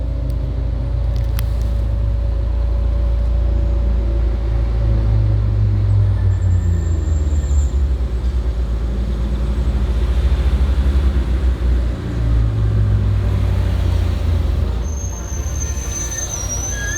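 A Corvette C6 rolls into a cars and coffee meet, its engine a loud, continuous low rumble nearby that swells and eases over several seconds with brief high squeals.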